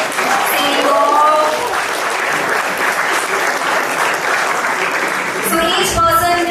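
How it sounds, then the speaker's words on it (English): A hackathon crowd claps, cheers and whistles loudly, a sustained roar of applause with shrill whistles and shouting voices throughout. "By clapping, whistling, making noise, saying go."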